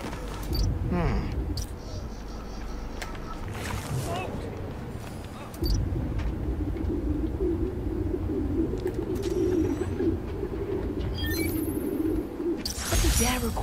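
Pigeons cooing in a city park in the game Spider-Man: Miles Morales, a low steady murmur of many birds under spoken game dialogue, with brief sharper sounds scattered through.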